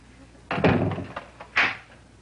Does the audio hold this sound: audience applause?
no